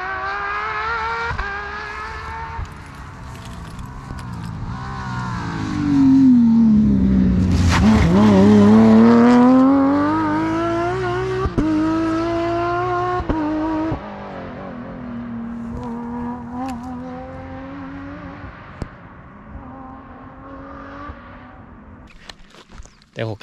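Rally cars tear past on a Rallye de la Famenne 2025 stage, their engines rising from a distant drone to a loud roar and falling away as each one sweeps by, with tyre noise and a possible faint voice underneath.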